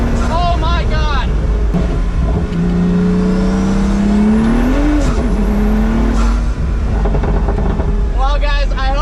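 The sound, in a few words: Pagani Huayra Roadster BC accelerating hard in second gear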